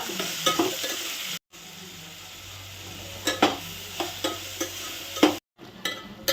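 Food being stirred and fried in a pan in a home kitchen: a constant sizzle under repeated close scraping strokes of a spoon, coming in an uneven rhythm with a couple of short pauses.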